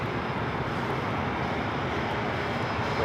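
Heavy airliners approach LAX with a constant, dense engine roar that stays loud and unbroken, no speech heard over it.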